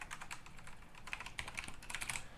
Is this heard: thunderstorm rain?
no